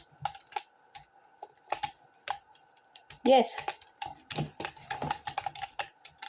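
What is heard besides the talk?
typing on a computer keyboard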